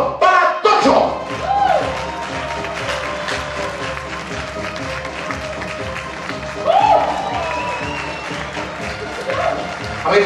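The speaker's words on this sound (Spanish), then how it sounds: "¡Un fuerte aplauso para Tocho!" Audience at a live show gives a round of applause for a visiting artist, clapping heard throughout with louder swells near the start and around the middle, mixed with crowd noise and some voices.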